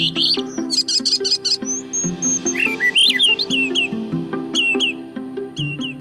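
Wild birds sing and chirp in a northern breeding wetland, picked up by an automatic acoustic recorder; several birds trade repeated high tweets and trills, with a steady lower chirping pattern running underneath throughout, near and clear, without any speech.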